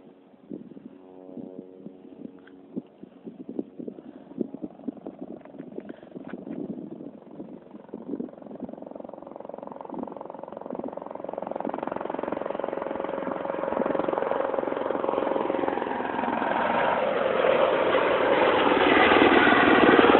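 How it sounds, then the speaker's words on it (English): A tour helicopter's rotor thump and engine drone grow steadily louder as it approaches overhead at an air show in Page, starting distant and swelling into a loud, sustained roar. "We got a chopper coming in."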